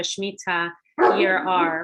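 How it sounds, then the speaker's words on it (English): A dog barks and yips briefly in a room, its short sounds mixed in with a person talking nearby. "I apologize for my dog."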